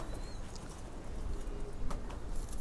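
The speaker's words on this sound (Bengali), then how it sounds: "কবুতর দেখুন" Silver pigeons, a paired couple, coo softly at close range among low rustling and background noise, with a few faint chirps; no talk.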